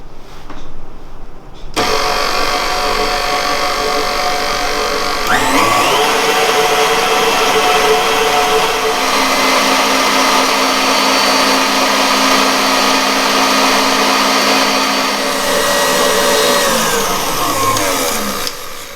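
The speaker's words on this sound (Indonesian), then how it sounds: "Nah, kalau sudah, kita matikan mixernya." An electric mixer runs at its highest speed through roll cake batter, a steady loud motor whine that fills the whole stretch after a short quiet start, with no talking over it.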